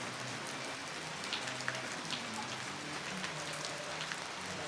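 Light drizzling rain patters softly and steadily on surfaces, a faint continuous hiss with scattered drop ticks and no voices.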